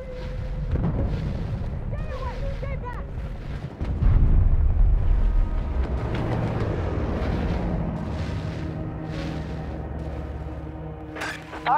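A grenade detonates in Battlefield 2042, a heavy explosion bursting out amid constant battlefield din, followed by rumbling debris and more scattered combat sounds, with voice chatter around it.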